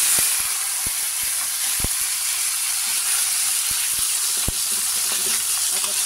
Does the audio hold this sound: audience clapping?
no